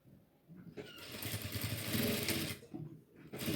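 A sewing machine stitches fabric for a frill pillow cover: a quiet start, a fast two-second run of rapid stitching, a pause, then another brief burst.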